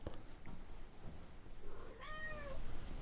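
A cat meows once, a rising then falling cry near the end, moderately close above a soft, noisy room background with no talking.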